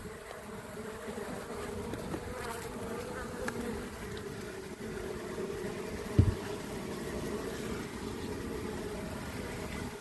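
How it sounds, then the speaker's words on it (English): A dense, steady buzzing of a honey bee swarm in a tote swarm trap, close and continuous throughout, with a brief soft thump partway through. "Lots of bees on the ground still."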